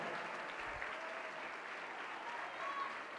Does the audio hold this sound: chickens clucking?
no